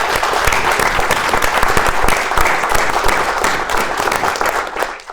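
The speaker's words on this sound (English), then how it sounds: "I'd love for you to just give him a quick round of applause" An audience at an International Men's Day event claps in a dense, sustained round of applause that fades away at the end.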